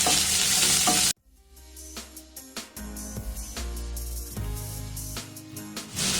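Thinly sliced onion frying in a pan after a loud opening burst, a steady close sizzle with repeated stirring scrapes for several seconds, no talk.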